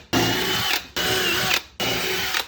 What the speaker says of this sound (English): this little bit countersinks your screws, so when you screw the screws in, they go in perfectly